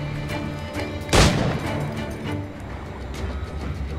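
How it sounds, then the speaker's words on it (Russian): A single loud gunshot blast from Assassin's Creed IV: Black Flag, with a sharp crack and decaying boom over a steady background hum. "Что, выстрелы тебя не смутили?"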